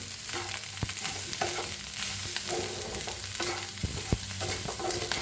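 Spoon scraping and stirring potato sabzi in a pan during a fasting-day recipe, with low sizzling under a series of sharp clatters and scrapes, close and steady, no talking.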